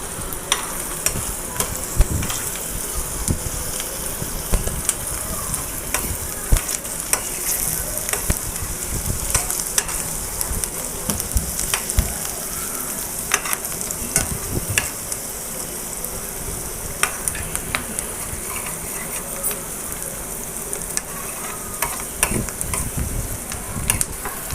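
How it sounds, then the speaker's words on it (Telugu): Onion pieces fry in a pan while a ladle stirs them steadily, giving a continuous sizzle with scattered scraping clicks throughout, close and fairly loud, with no talking. "ఉల్లిపాయ ముక్కలు అలా గరిటతో కలబెట్టుకుంటా ఉంటే మగ్గుతాయండి"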